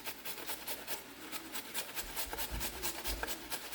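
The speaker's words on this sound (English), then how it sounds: "So we're going to grate a little bit of carrot." A carrot scraped on a grater makes quick, repeated rasping strokes in a steady rhythm, close and fairly quiet, with no talk.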